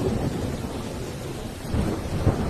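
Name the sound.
thunder and heavy rain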